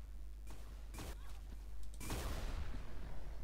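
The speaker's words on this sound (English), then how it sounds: "Got a rail gun." Rail gun fire in the Roblox game Arsenal, a few sharp bursts followed by a noisy rumbling blast, fairly quiet under a low background hum.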